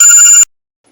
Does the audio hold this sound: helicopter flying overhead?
no